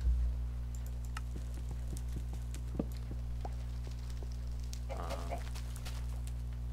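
A chicken in a Minecraft-style video game gives a brief burst of soft clucks over steady low background hum, amid scattered light clicks and taps.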